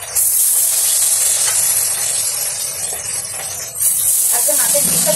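Fish pieces hit hot oil and fry with a loud, close, continuous hissing sizzle that dips briefly partway through and then surges again.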